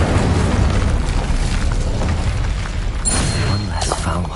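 The Incendio fire spell in Hogwarts Legacy erupts in a continuous heavy whoosh and roar of flame with booming low rumble and crackling bursts throughout combat, loud and close, with no speech over it.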